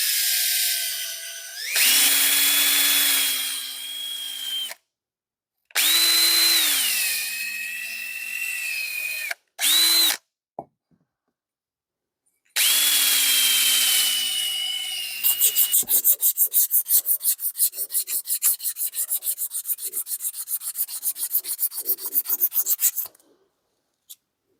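A powered 556 bore brush scrubs an old Wilton vise in several loud, close bursts of rough whirring and rubbing separated by pauses, ending in a fast rattling stretch; no one speaks.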